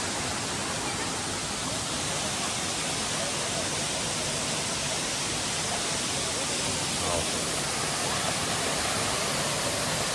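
A waterfall at an outing spot rushes in a steady, dense wash of water noise that stays constant and fairly loud throughout, with no distinct voices standing out.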